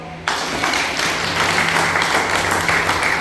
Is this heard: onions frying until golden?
no